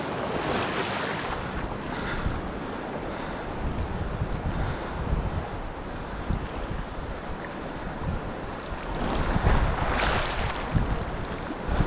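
Ocean surf breaks on a beach shore in Antigua with steady wind noise over the mic, a continuous broad wash that swells louder toward the end.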